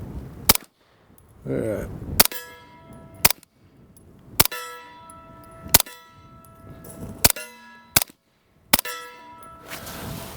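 Pistol shots from a Grand Power Stribog SP9A3S ring off a steel plate outdoors, about eight sharp cracks each followed by a ringing clang, spaced irregularly a second or so apart, with brief speech between.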